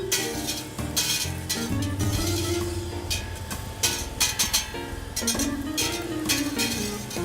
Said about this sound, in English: we will let that saute down for about a minute until the onions become a little bit of a translucent